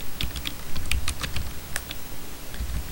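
Fast typing on a computer keyboard, a close, steady patter of crisp key clicks with brief pauses.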